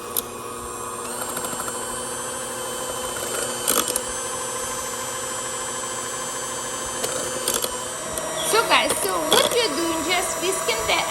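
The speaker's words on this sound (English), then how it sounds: "I'm going to use mixer, and we're going to slowly" An electric mixer whisks egg whites for nut rolls, a steady whirring drone that shifts in pitch, with a few clicks and handling clatter around it.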